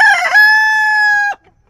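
A healthy rooster for sale lets out a single loud, close crow of just over a second, sustained and clear before it cuts off into silence.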